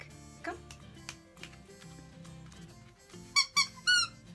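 A squeaky rope dog toy gives three quick, loud squeaks near the end. Before that come quieter rustling and handling noises and some soft, indistinct voice sounds.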